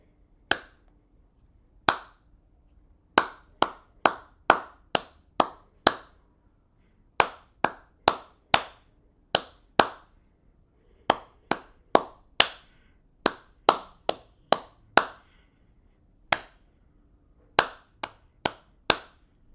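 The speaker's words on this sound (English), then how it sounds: "I'm going to perform it one more time a bit faster with just the clapping so you can hear the rhythm coming through" Hands clap a rhythm with a 6/8 flow and no metronome, sharp, close claps grouped in irregular bursts with short pauses.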